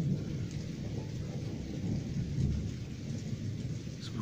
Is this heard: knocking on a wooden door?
no